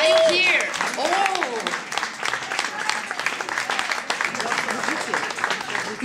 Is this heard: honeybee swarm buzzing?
no